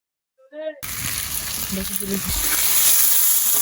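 Spice paste with dry chili powder fries in a pan for a jackfruit and prawn dish. A short vocal sound comes before a loud, constant sizzle that starts suddenly and runs to the end, with a faint voice briefly underneath.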